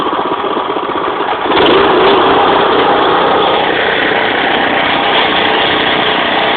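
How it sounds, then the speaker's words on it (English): An old rototiller's small engine runs steadily, a loud buzzing drone that surges slightly partway through and then holds an even roar, with no one speaking. "The old tiller. The one we bought in town."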